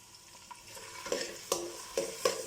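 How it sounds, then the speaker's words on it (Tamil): Onions fry in oil with cinnamon, cloves, cardamom and bay leaf for a Chennai-style chicken biryani, a quiet steady sizzle marked by several sharp spoon taps and stirring strokes. "அனியன் வதங்கட்டும்."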